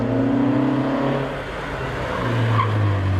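A stock Mark II Ford Escort climbs a lakeside hillclimb course, its engine droning steadily and loud through the whole run, pitch shifting as it works through a bus-stop chicane, with a brief tyre squeal and no talk.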